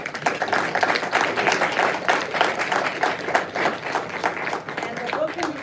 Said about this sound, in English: please join me in a round of applause for David Olivencia